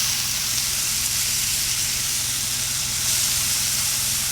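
Wagyu smashburgers sizzle on a hot plancha set on a kettle grill just after flipping, a loud, steady, close hiss of fat frying that runs unbroken with no talking.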